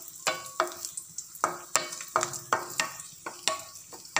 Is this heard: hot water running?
no